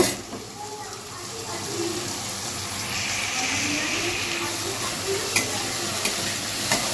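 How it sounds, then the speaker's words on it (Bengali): Vegetables sizzle and hiss as they are stirred and fried in a pan in a home kitchen, a steady close crackle with a couple of sharp scraping clicks near the end. "এরপর আমি একটু সবজিটা নাড়াচাড়া করব।"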